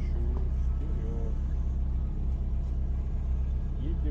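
A Lada Niva 4x4 engine rumbling steadily at close range while driving off-road through an icy stream, a low continuous drone with slight revving and faint voices.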